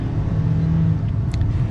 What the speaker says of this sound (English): One last acceleration.